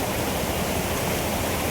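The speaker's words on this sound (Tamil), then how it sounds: "தண்ணி ஓடுற சத்தம் கேட்கும்போது அவ்வளோ சந்தோஷமாக இருக்குது" Rushing river water near the main road to Mysore at Nanjangud, a steady dense roar of flowing current with no voices, constant and close throughout.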